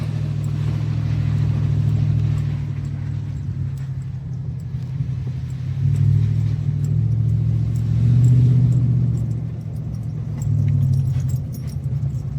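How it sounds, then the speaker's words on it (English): A Ford Explorer drives through sloppy snow, its engine a deep, steady rumble that swells and eases in waves, with faint clinks and rattles on top and no talking. "the Explorer actually handles this really sloppy stuff better than the F-150 does in 2-wheel drive"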